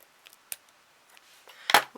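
Scissors snip ribbon while a flat Santa Claus bauble is being made, giving a couple of short, crisp cuts with a louder snip near the end, close by against a quiet room.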